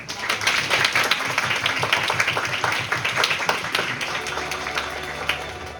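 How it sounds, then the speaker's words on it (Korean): Audience applause at a student Model UN closing ceremony, dense hall clapping that is loud and steady at first, then thins toward the end. "이번 회의를 위해 최선을 다하신 여러분 모두를 위해 다시 한번 뜨거운 박수 부탁드립니다."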